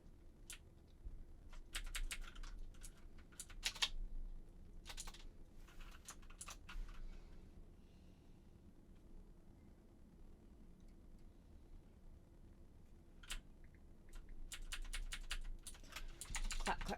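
Quick bursts of clacking on a computer keyboard, keys tapped in uneven clusters with short pauses between them, close and fairly quiet with no talking.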